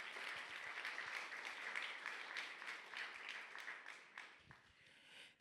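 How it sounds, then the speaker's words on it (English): Applause from a forum audience greeting a speaker at a community event on African resistance movements, a steady dense wash of many hands clapping at moderate distance, thinning out toward the end. "Round of applause for Ameth Lo."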